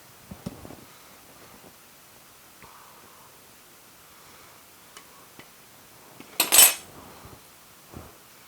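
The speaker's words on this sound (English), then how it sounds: "I got a slotted spoon and a little fork to help me work with them" Slotted spoon and small fork clink against a pot while separating cooked pasta shells, with a few soft taps early on, a louder brief scrape and clatter near the end, and one last faint tap.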